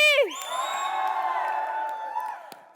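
A studio audience at a television entertainment show cheers as guests walk on stage: a loud burst of whoops and crowd cheering that swells at once, holds for about two seconds, then fades.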